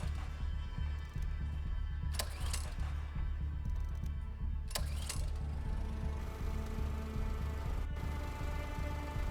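A generator-driven water pump in the survival game Don't Escape: 4 Days to Survive runs as a steady mechanical whir and clatter, with two sharp metallic clanks breaking through and no talking.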